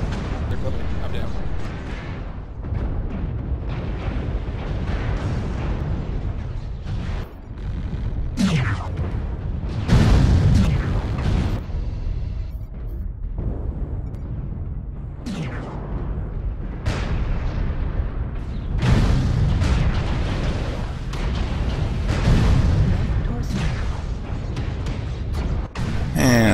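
Incoming missile explosions in the MechWarrior Online video game: repeated heavy booms and rumbling blasts roll through a forest colony battle, loud and dense, with player voices talking over the barrage.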